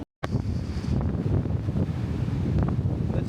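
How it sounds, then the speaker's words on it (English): Heavy wind at cliffs in Orkney buffets the microphone in a continuous low rumble that gusts and roars throughout, with no other sounds coming through. "It's really windy."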